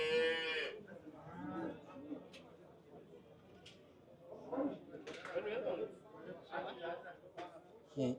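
A cow lows once loudly at a livestock market, followed by people talking and market chatter, with faint birds in the background.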